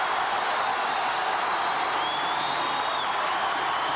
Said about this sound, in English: This crowd is up on its feet.